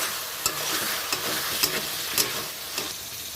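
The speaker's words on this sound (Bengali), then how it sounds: "এবার আমি ভেজে রাখা আলুগুলো অ্যাড করে দেব" Fried potatoes stirred into chicken in a hot pan, a steady close sizzle with periodic scraping strokes of a spatula, moderately loud and without any talking.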